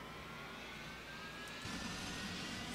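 Jet engines on a player-built vehicle in the Homebrew Vehicle Sandbox game give a continuous, faint roaring hiss, with the engine rumble swelling slightly toward the end, no talking.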